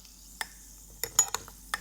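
Babybel cheese is stirred in a glass of Coke, giving a few faint, scattered clinks and light scraping taps against the glass.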